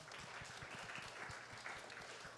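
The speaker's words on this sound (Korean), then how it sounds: "우리 감사하다고 박수하겠습니다" Congregation applause at a Korean Sunday church service, a faint, distant-sounding patter of clapping with a few distinct low thumps, steady across the clip.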